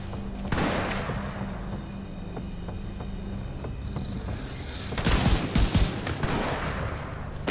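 A turret fires in The Division 2 in a steady stream of gunshots, with a louder, denser burst of rapid fire near the end.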